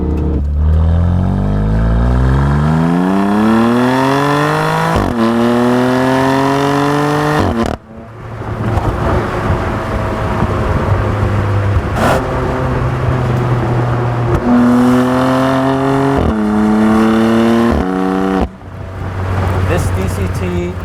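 A BMW F87 M2 Competition with a dual-clutch gearbox accelerates hard, its engine note climbing steadily and then dropping sharply at each quick gear shift, several times in a row, loud and close.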